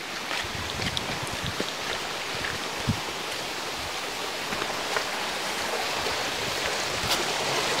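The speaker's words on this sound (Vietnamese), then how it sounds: "ở đây thì có một cái dòng suối rất là lớn đấy các bác này" A large mountain stream after rains rushes steadily in a broad, even hiss of flowing water with some wind noise, continuous and fairly close for several seconds.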